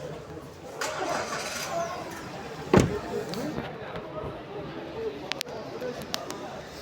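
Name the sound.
car engine starting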